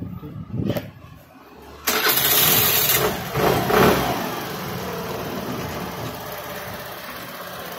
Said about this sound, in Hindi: चलिए अब सीधा गाड़ी स्टार्ट करके देखेंगे